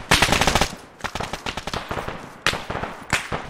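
Bursts of rapid automatic rifle fire while engaging enemies in the Arma 3 military shooter, loud and close, in several fast rattling volleys broken by short pauses.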